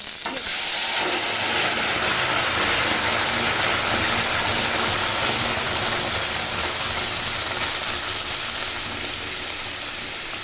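Lentil dal with hinche greens poured into a pan of reddened garlic tempering sets off a loud, steady steaming sizzle and hiss that fills the whole stretch, easing slightly toward the end, with no voices.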